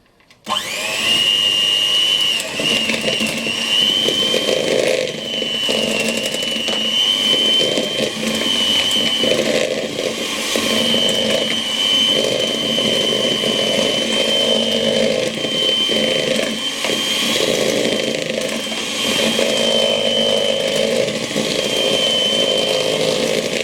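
Electric hand mixer whirring steadily through cupcake batter, a loud continuous motor drone with slight pitch wobble as the beaters move, running without pause for the whole stretch.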